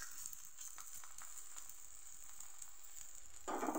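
A coriander paratha roasts in a pan with a soft, steady sizzle, quiet and close, swelling slightly louder at the very end.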